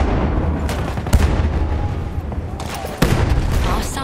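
A grenade explosion in Battlefield 1 amid heavy battlefield noise, with loud booms and sharp blasts, one near the middle and another strong one shortly after, over a constant rumbling din.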